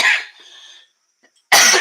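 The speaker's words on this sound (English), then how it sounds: "the coughing, it's just part of it. When you have bronchitis, it's part of it." Several harsh coughs from a person with bronchitis, a loud burst at the start trailing off, a short silence, then another loud cough at the end; no speech.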